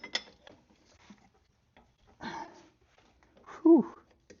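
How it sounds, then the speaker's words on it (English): A stuck part on a Mustang is cranked loose with a wrench, giving a few short ratcheting, grinding bursts with quiet gaps between them and a strained squeak near the end. "Let's get this guy and start cranking something loose."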